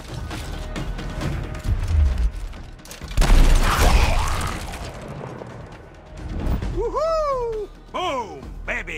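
Grenade explosion in the video game Gears Tactics, a heavy booming blast with crashing debris in the middle, followed by whooshing sweeps and mechanical game effects, loud and close against a rumbling backdrop.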